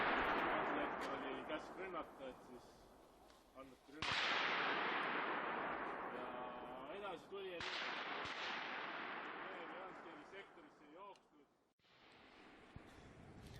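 Gunfire booms during a military field drill at a forest edge, several heavy shots with long echoing decays rolling off, spaced a few seconds apart, with people talking underneath.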